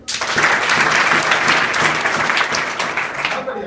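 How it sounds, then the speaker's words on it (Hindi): A college audience in Azamgarh bursts into loud, dense clapping that holds steady for several seconds before easing slightly at the end, with no voices heard over it. "अरे वाह, ताली बजाते हैं।"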